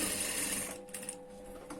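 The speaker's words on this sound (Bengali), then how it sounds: "কাটটা এই সাইডে মিল করে, মোড়ার সাইডে মিল করে কাটটাকে সেলাই করে ফেলবো।" A sewing machine stitches a neck cut nearby, a fast steady mechanical whir that eases into a few softer, sparser stitches.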